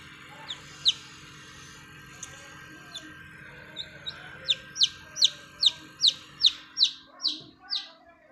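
Newly hatched chicks peep inside an incubator holding duck, turkey and chicken eggs: a few scattered high chirps, then a rapid series of about a dozen loud, close peeps, over a low steady machine hum.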